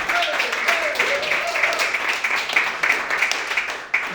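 Audience applause at a political campaign event, a steady wash of clapping across the whole stretch with voices and cheers mixed in.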